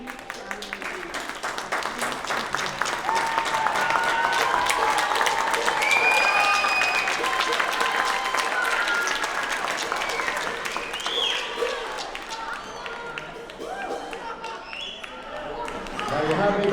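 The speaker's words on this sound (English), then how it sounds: "You might be clapping a little premature" Audience applause fills a live evening broadcast event, a dense wash of clapping that swells and holds steady for most of the stretch, with an emcee's voice speaking over it.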